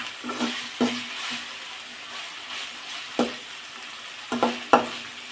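Mutton blood is stir-fried with onion in a pan, Chettinad style, giving a steady soft sizzle with several distinct scraping strokes of a spoon, close and without speech.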